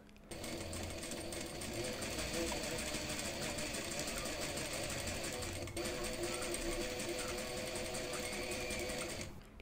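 A sewing machine stitches a striped belt loop, running continuously close by with a fast, even mechanical rattle throughout.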